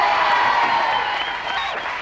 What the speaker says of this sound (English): Round of applause for Tommy Docherty.